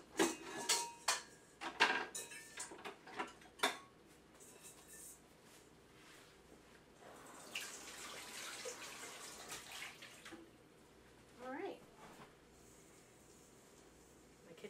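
A KitchenAid mixer bowl being handled in a home kitchen, with several sharp clinks and knocks of dishes and metal in the first few seconds, then softer rustling and water-like washing noise, and a later clatter.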